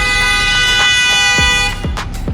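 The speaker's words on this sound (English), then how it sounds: "That's a fucking BMW honking." BMW car horn blaring in a long sustained honk on the street, loud and close, followed by a few short sharp toots with passing traffic underneath.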